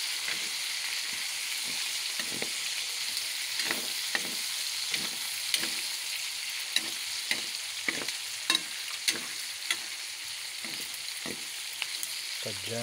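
Tokwa't baboy with tawsi (tofu, pork and fermented black beans) fries in a pan with a steady bright sizzle, punctuated by frequent soft scraping clicks as the mixture is stirred.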